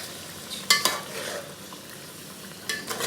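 Pieces of chicken coated in masala are stirred in a pan for Afghani chicken, with a soft background sizzle and a few sharp scraping strokes of the spoon, close and alone.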